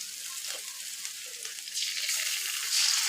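Cumin and ginger paste sizzling in hot oil for a jute leaf dal, a steady close frying hiss that grows louder toward the end.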